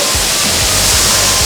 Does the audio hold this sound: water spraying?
yes